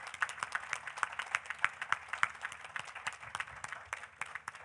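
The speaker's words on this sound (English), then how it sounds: "I think he deserves a big round of applause for that." Audience applause at a candidates' debate for House District 39, a steady patter of many hands clapping indoors, moderately loud and continuous throughout with no talking over it.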